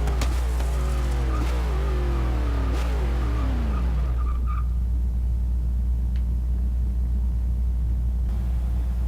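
A Dodge Challenger drag build in Forza Motorsport 6 launches hard, its engine climbing through rapid revs with tires spinning before settling into a loud, steady rumble.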